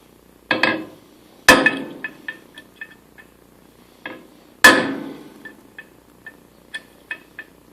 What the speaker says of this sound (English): 16-ounce hammer.